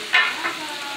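Chicken and mushrooms sauté in a hot pan, a short burst of sizzling as the food is stirred, close and fairly soft, with no voices.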